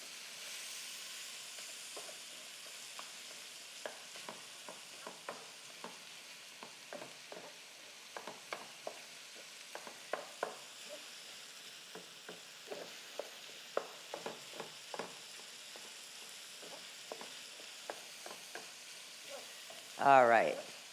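Meat fries steadily in a hot pan, a constant sizzle broken by frequent small crackles and pops, with a brief louder burst of spitting near the end; no one speaks.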